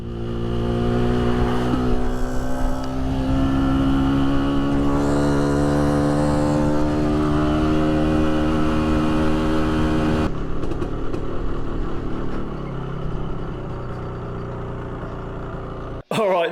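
A barn-find Suzuki X7 motorcycle, well down on power, revs loudly and close, its engine note climbing and holding steady before dropping away to a rougher, quieter running sound near the end.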